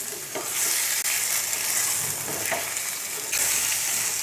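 Half a kilogram of bone-in chicken frying in oil in a handi, sizzling loudly and steadily up close while it is stirred, with a few sharp scrapes of the spoon against the pot and no speech.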